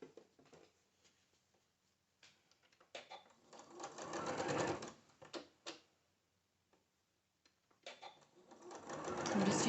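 A sewing machine stitches batik quilt squares with a quarter-inch presser foot in short bursts, a rapid close mechanical whirring that starts and stops between brief pauses and quiet handling noises.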